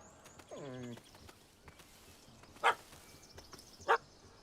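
Dog in The Witcher 3 video game giving two sharp, separate barks a little over a second apart, fairly close, after a brief falling whine and under quiet ambient game sounds.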